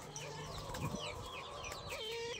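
A tame pet ringneck dove calls indoors, its clucking, cooing notes close by and repeating through the moment, with a faint background murmur.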